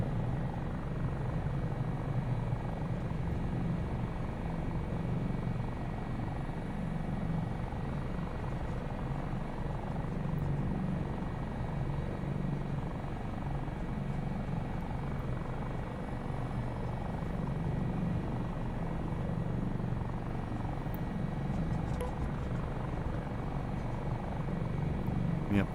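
Helicopter rotors in Microsoft Flight Simulator 2024 whir at a steady, unbroken drone with a low throb, holding at constant loudness throughout.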